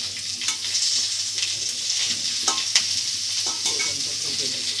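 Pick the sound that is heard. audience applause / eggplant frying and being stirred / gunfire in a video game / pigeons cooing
eggplant frying and being stirred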